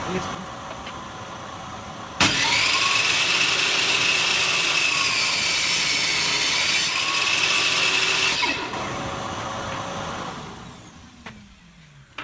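A new contractor-style PT48250-S table saw with a fresh blade bites into wood with a loud, sustained whining cut lasting several seconds, then the motor winds down and fades to quiet.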